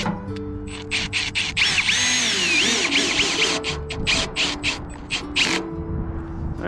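A power drill whirs in repeated bursts as it drives a screw through metal roofing deck on a DIY post-and-beam pavilion, with a steady mechanical hum underneath and some rubbing and clattering, close and fairly loud.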